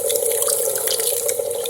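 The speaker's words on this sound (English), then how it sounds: "I'm going to pour some more ice water down in here and do it again until I get it clear" Ice water splashes and trickles into a bowl of freshly churned homemade butter to rinse out buttermilk, a steady close pouring wash with no talk.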